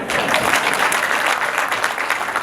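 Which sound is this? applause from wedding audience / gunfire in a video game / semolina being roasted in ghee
applause from wedding audience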